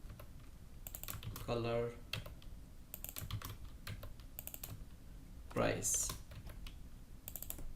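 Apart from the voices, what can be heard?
typing on a computer keyboard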